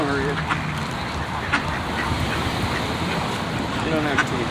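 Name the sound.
geese and ducks quacking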